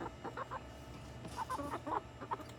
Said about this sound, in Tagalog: ayaw nilang maghiwalay itong mga manok na to